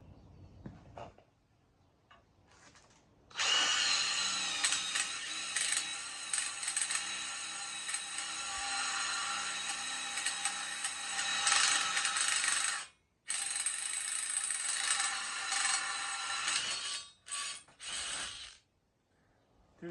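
A power drill fitted with a 1/4 inch bit bores through metal, its steady high-pitched whine running for long stretches with a short break partway, then sputtering and stopping near the end, with no talk.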